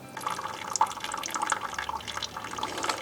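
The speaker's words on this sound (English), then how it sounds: "there's a really steady flow of water through those very fine microscopic pores" Water trickles and drips steadily through a Sawyer Point Zero Two viral water purifier filter, a fine continuous stream of small splashing drops falling into a container, close and fairly quiet, with no voices.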